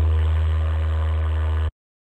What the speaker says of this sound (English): You can see I have it down, pitched down 2 octaves,